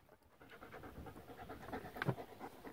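A friendly dog near a golf cart pants softly, a rapid rhythmic breathing that is faint and close, with a slightly louder burst near the end.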